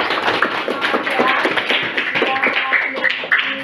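A classroom of students claps together in a brief, dense burst of close hand claps with a few voices mixed in.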